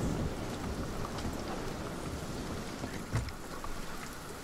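A storm in the video game Sea of Thieves brings steady heavy rain that hisses and patters without a break. Faint rumbles of thunder sit under the rain, and no one speaks.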